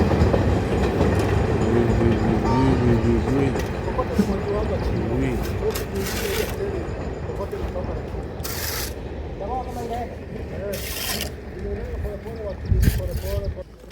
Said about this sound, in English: Train is passing. From the sides.